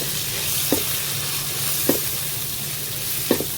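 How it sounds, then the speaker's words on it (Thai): Ingredients stir-fried in a pan for a Thai-Lao spiced fermented fish dish, a continuous hiss of sizzling oil with three soft scrapes of the spatula spaced about a second apart. "ผัดให้หอม"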